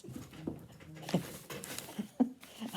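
Close dog whimpers and soft panting breaths come in short irregular bursts over a faint background murmur, with a few sharper whines standing out.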